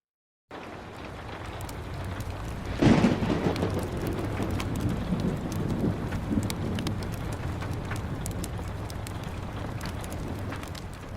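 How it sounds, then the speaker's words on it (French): Heavy rain beats against the thick windows of a nineteenth-century French manor, a dense continuous patter with a deep rumble of thunder swelling early on and then fading under the steady downpour. "la pluie battait contre les fenêtres du manoir, créant un martèlement sourd sur les vitres épaisses"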